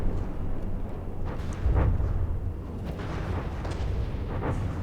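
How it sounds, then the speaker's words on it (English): Rapid cannon fire from a CRAM shell barrage in the From the Depths naval combat game, with a steady rumbling wash of shots and a heavier booming burst partway through, continuous and fairly loud. "But it gets distracted by the constant barrage of cram shells."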